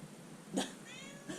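A cat gives a short, faint meow at close range, then a softer second call, against a quiet room hiss.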